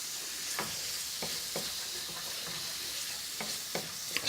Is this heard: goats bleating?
no